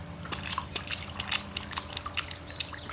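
Water in a swimming pool drips and splashes in quick irregular bursts, small sharp splatters close by over a steady low hum, with no talking.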